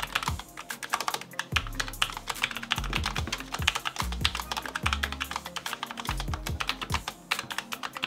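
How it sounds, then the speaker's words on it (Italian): Rapid typing on a Logitech MX Mechanical keyboard with low-profile mechanical switches and a US International layout, a dense run of close, crisp key clicks and clacks with no voices. "il typing è proprio quella di una tastiera meccanica ma ridotta appunto ai minimi termini"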